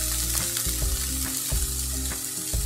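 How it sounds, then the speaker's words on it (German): Lentils being stirred in a hot pan, a steady close sizzle with repeated scraping strokes of the spoon at a regular rhythm, no voices. "Rühren das Ganze einmal um."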